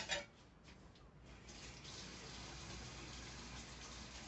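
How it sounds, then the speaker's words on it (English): A kitchen faucet runs steadily while jalapenos are rinsed under it, a soft continuous hiss of water at low level after a brief splash at the start. "I'm rinsing off my jalapenos."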